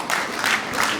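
Wedding guests clap together in a short burst of applause, a steady crowded patter that swells slightly midway and carries on without voices.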